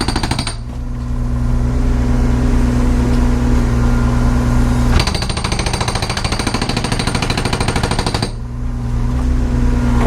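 A hydraulic hammer on a rented mini excavator breaks material at a work site, pounding out loud, close, rapid blows in a steady unbroken run, with no talking.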